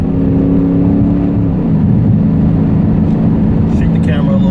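A Dodge Challenger with a Hemi V8 accelerates, its engine droning loud and steady with the pitch shifting as it builds speed, heard close from inside the car.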